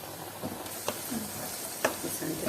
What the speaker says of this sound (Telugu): ఫ్రై చేసుకోవాలి, అల్లం ఫ్రై చేసుకోవాలి.